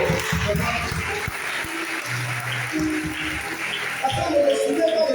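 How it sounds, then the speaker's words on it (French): A church crowd applauds in a dense, steady patter of clapping while a voice carries on over it. "applaudissons pour ça."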